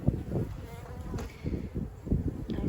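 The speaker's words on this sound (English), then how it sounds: "You see the bees with pollen on them here." Honey bees buzz faintly at a hive entrance in early spring in the UK, soft uneven buzzing passes coming and going close by.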